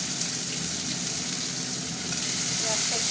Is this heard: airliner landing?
no